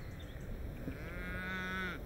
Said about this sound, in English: Mary keeps her own herd of cattle.